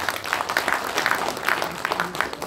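Steady applause from a banquet crowd at a football association president's inauguration ceremony as a team leader is appointed, a dense, even patter of clapping lasting a couple of seconds.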